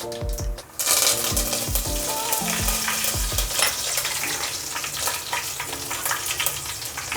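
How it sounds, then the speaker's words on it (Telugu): Cumin seeds and curry leaves crackle in hot oil as a tempering for egg pulusu, a lively, crisp sizzle with stirring, preceded by a few short tonal beeps at the start. "కొద్దిగా జీలకర్ర, అలాగే 2 రెమ్మలు కరివేపాకు."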